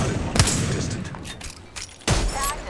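Video game gunfire, two sharp loud bursts of shots separated by a stretch of quieter background noise and faint distant pops, no speech.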